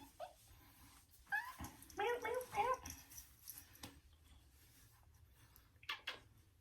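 A domestic cat meows several times in short, rising calls close by, with soft shuffling and handling noise around it and no talk.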